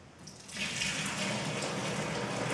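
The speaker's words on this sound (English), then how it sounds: "It's time to add 3 liters of boiled water." Boiled water poured into a homebrew beer kit, a steady splashing stream that begins faintly, then swells into a constant close pour and keeps running, no talking.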